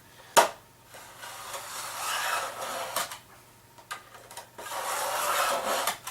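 A new heavy-duty blade in a regular utility knife scores a panel several times during work on an electric BMW 320i, making a sharp initial scrape followed by long, raspy drawing strokes close up.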